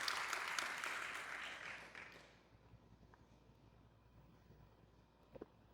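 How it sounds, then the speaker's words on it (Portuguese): Church congregation applauding during a Wednesday morning sermon: a loud burst of clapping that fades out after about two seconds, leaving a quiet room with a few soft knocks. "aplauda em nome de Jesus"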